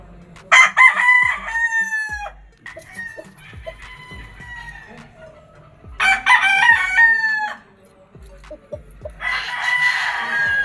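Gamefowl roosters, including Elgama Gray straight-comb birds, crowing at a game farm, several loud drawn-out crows overlapping one after another from nearby, with clucking between them.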